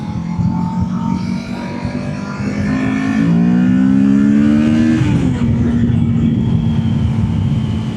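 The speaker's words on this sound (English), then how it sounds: "not sure how good the the bike sound's gonna pick up through the mic" Kawasaki Ninja 650 motorcycle engine heard while riding on an overcast day, a loud steady drone that climbs in pitch midway as the rider revs, then settles back, continuous throughout with wind noise.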